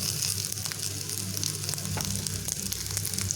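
Chillies fry with spices, salt and turmeric in a pan, giving a constant bright sizzle with scattered crackles and light stirring scrapes.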